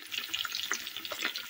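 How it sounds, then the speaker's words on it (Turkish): Chicken meatballs fry in hot oil, giving a soft, steady bubbling sizzle with small crackles and pops throughout. "Güzelce kızartalım"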